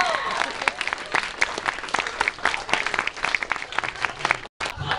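An audience at a voice acting panel at a furry convention gives a round of applause, dense and fairly close clapping that fills the moment, with a brief dropout near the end and faint voices mixed in.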